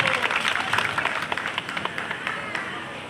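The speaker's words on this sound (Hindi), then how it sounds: "ऐसे धर्मराज चाचा बच्चा सिंह चाचा के लिए एक बार जोरदार तालियां हो जाएंगे" At a welcome and honouring ceremony for a Brahmin society president at Kashi Vishwanath Dham, a crowd gives a short burst of fairly soft applause, steady at first and thinning by the end.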